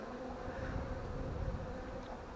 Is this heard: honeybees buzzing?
yes